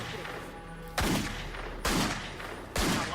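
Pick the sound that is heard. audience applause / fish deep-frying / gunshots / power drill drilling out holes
gunshots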